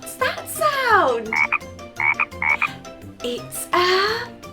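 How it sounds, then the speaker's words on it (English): A frog croaking by a farm pond, loud and close, with repeated sweeping croaks mixed with short chirping bursts in an uneven rhythm, no voices. "I see a frog in the pond on the farm"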